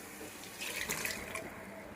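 Water from a tap runs into a pressure cooker for chicken pulao, a faint, brief splashing stream that swells for a moment and then settles.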